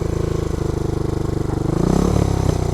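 A dirt bike engine chugs steadily at close range in a rapid pulsing rhythm, then its pitch climbs as the rider works the clutch and shifts gears.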